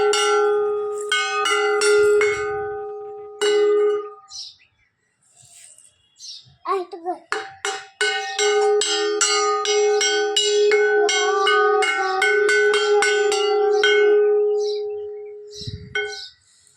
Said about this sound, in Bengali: ঘন্টাটা বাজিয়ে দাও